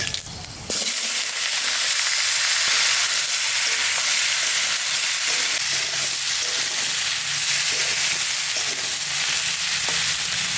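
Panch phoron spices crackle and sizzle loudly in hot oil, a sudden burst after a brief quiet start, then a steady frying hiss with small pops throughout.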